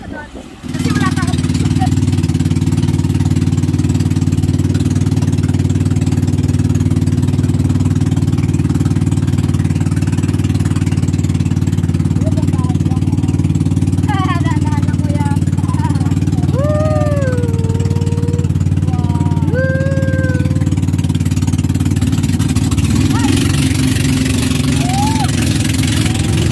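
A steady low boat engine drone runs throughout, loud and constant, with faint voices and a few high tones over it.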